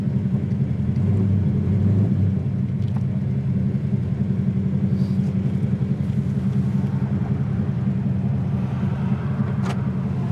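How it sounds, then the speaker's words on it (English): A 1969 Chevelle Malibu SS engine idles steadily on fast idle at about 1,200 rpm, a slightly fast, even rumble, close by and continuous, with no voices. "It's idling about, still kind of a little bit on fast idle."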